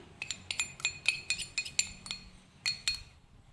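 A metal spoon clinks repeatedly against a bowl while turmeric powder is mixed in, a dozen or so light, bright taps in an uneven rhythm, close and alone with no talking.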